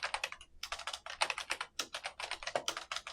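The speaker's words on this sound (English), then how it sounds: "Sorry for my typing" Someone types fast on a computer keyboard, close and clear, in quick bursts of clicking keystrokes broken by short pauses.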